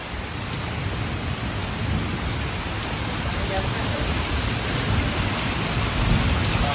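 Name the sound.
rain falling with thunder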